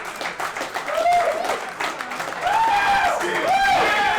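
Audience applause and cheering at a live comedy show in Madawaska, dense clapping that swells louder partway through, mixed with shouting voices and laughter.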